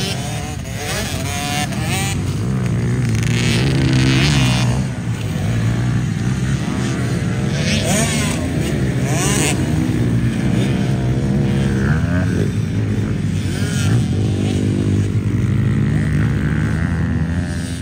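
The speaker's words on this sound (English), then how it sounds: "Alright, we're back out on the petrol bike." KTM 50SX petrol two-stroke youth dirt bike being ridden, its engine buzzing loudly and continuously, pitch rising and falling as the throttle opens and closes.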